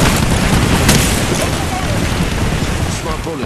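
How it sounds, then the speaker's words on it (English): A grenade explodes in a battle-royale shooter, a dense broadband boom and rumble that fills the whole clip with steady loud rumbling debris noise, while the game's character voices speak over it. "Grenade, look out!"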